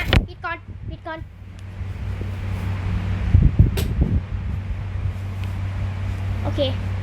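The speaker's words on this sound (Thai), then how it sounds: "นะเราเปิดพัดลมนี่นะ" Electric fan running indoors, a steady low hum throughout, with children talking and brief knocks over it.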